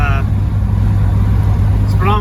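A 1974 Pontiac Trans Am on a test drive, its engine droning low and steady from inside the cabin, with brief voices heard at the start and end.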